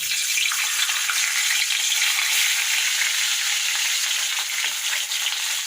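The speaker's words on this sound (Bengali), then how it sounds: "এই যে মাছটা, তেলটা গরম হয়ে গেছে, কড়াতে দিয়ে দিচ্ছি।" Fish heads sizzle in hot oil in a wok, a bright, steady frying hiss that holds close and even for several seconds with no talking.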